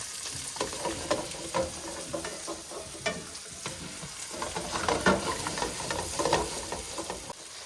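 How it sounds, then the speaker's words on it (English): Beef pieces for stroganoff brown in a hot pan, giving a steady, busy sizzle with scraping clicks as a spatula turns them. The frying is close and continuous, with no talk over it. "I'm going to take a spatula and turn these over so that we get all sides nice and brown"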